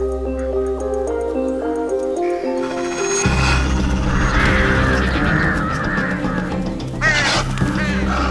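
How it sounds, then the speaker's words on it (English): Scavenging crows caw in the wild over a sustained tonal musical score, the harsh calls rising in the second half and partly masked by the music. "These scavenging crows seem to have found something."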